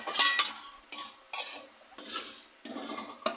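Spoon stirring mutton with sour yogurt in a pot for biryani: repeated close scraping and clattering strokes against the metal, with a light sizzle between them and no voices.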